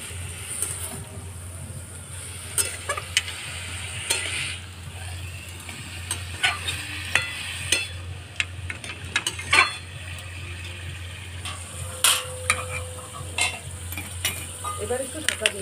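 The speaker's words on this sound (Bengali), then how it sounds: "চেরা কাঁচা লঙ্কা দিয়ে দিচ্ছি।" Slit green chillies and ash gourd stir-fried in a pan: a steady sizzle of frying runs throughout, broken by irregular scraping and clinking strokes of the stirring spoon, close up, with no one speaking.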